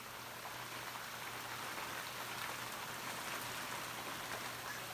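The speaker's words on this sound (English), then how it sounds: "It's raining." Steady, quiet rain falling outdoors, a soft continuous hiss of drops with a faint low hum beneath and no voices.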